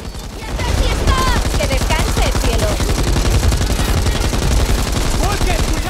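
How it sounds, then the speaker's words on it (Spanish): Rapid automatic gunfire from the zombie shooter Back 4 Blood on Xbox One X, loud dense bursts of shots running continuously with game effects layered over them. "Yo disparo a todas las partes"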